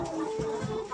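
Chickens of mixed breeds cluck steadily and close by in a farmyard, a single brief stretch of overlapping calls.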